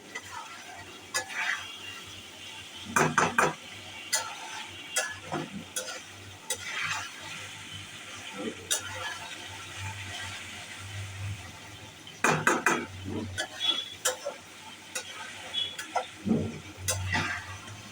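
A utensil stirs potatoes and meat sautéing in a pan, giving a quiet, steady sizzle broken by irregular scraping clacks against the metal, with no talk.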